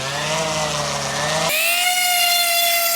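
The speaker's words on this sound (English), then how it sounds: "So the sander did clean this up a little bit more." A power sander fitted with coarse grit sandpaper grinds across a rusty Blackstone griddle top, a steady loud buzzing whir that shifts abruptly to a higher, thinner pitch halfway through.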